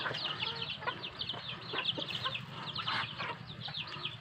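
Native chickens cluck and chatter softly in a farm setting, with repeated short clucks and calls overlapping at a moderate distance against low background noise.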